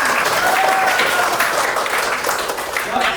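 A class of schoolchildren claps together at their teacher's prompt at the end of a lesson, a loud, sustained burst of many hands with some voices underneath.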